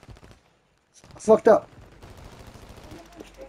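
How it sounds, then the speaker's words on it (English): Call of Duty gunfire comes as two sharp bursts close together, then fades into quieter game noise, with a player swearing over it. "Somebody shooting at me"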